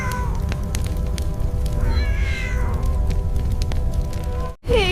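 Kittens meow in a 3D animated scene, with repeated cat calls rising over a steady, loud background. The sound cuts off abruptly near the end.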